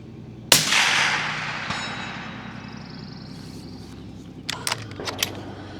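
A single sharp, loud suppressed rifle shot cracks out at 300 yards and rings off slowly, followed seconds later by a few faint clicks and clanks nearby.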